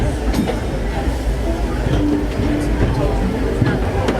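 The Disneyland Railroad train rumbles steadily with rhythmic clatter and squeals from the rails, heard from on board, with people talking over the noise.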